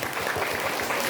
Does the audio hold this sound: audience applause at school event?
yes